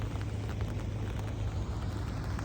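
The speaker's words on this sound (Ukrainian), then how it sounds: "У нас іде дощ" Rain falls steadily during a flood in the Netherlands, a dense, even hiss with a low hum beneath, constant and fairly quiet with no voices.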